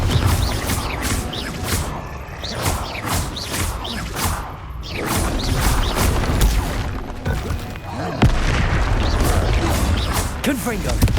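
Confringo spell explosions in the video game Hogwarts Legacy sound as loud, repeated booms, crashes and whooshes in busy combat, with voices speaking over the chaos throughout.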